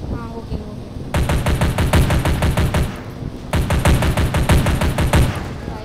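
Rapid bursts of SCAR rifle fire in the Free Fire game, two long strings of sharp, evenly spaced shots separated by a brief pause, loud and close.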